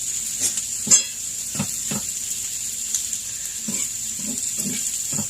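A spoon stirs food in a cooking pot, wilting greens into a dish, with scattered scraping clinks and soft wet sloshes over a steady background hiss, close by and with no talking.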